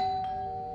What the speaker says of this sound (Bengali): calling bell